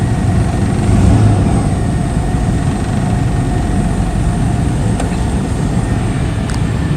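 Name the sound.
car engine idling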